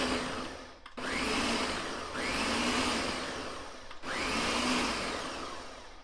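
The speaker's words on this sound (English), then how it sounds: "We put everything in the blender." A Ninja multi-blade blender whirs loudly while blending salsa in three sustained runs, each pulse rising and settling, with brief pauses between them.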